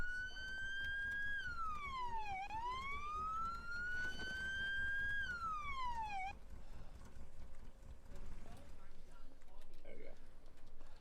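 A video game siren wails loudly in a steady up-and-down sweep for several seconds, then cuts off, leaving game background noise with faint talk.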